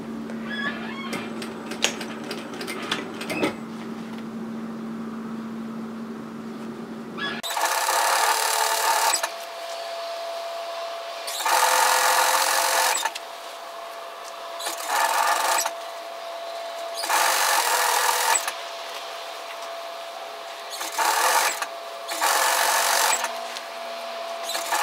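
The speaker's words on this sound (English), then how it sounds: "I'm going to sew it at 1 cm." A sewing machine stitches a 1 cm seam on a fabric sun hat, running in several loud, steady whirring bursts separated by brief pauses, after a quieter stretch of low hum and faint handling clicks.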